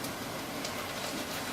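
A kitchen range hood extractor fan runs in a home kitchen while onions cook for rougail, giving a steady, even broadband whoosh that stays level throughout with no voices.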